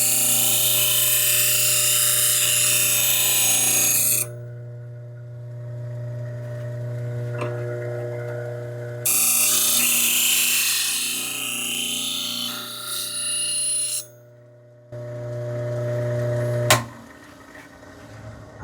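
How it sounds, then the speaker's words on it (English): A bench grinder spins with a steady high whine while the bevel of a vintage plane blade is ground in several bursts, harsh grinding flaring and dropping away between passes. "I'll go and work on the bevel on the grinder"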